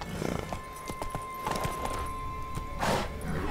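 Irregular clopping of horse hooves on the ground in the video game The Witcher 3: Wild Hunt, uneven steps with scuffs and a swell of movement near the end, mixed with game ambience and no talk.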